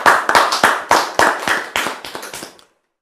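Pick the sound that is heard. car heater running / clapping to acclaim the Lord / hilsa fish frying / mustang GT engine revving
clapping to acclaim the Lord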